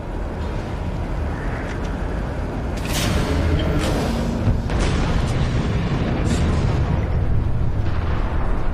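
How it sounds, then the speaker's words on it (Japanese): Bombs exploding in the Killzone Mercenary video game on PS Vita, a dense, continuous roar of blasts and rumbling debris with several sharp bursts layered over heavy low-end noise, loud throughout. "衝撃で ISA の爆弾が全て爆発する。"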